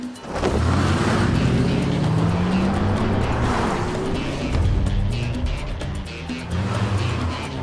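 A race car drives at speed on a track, its engine roaring loud and close throughout with a sustained, shifting pitch and hints of tire squeal, continuous from start to end.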